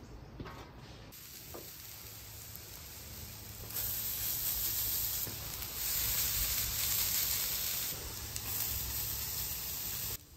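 Ghee sizzles steadily on a Camp Chef Gridiron griddle, a dense, continuous frying hiss that grows louder partway through and holds close and strong to the end, with no talking.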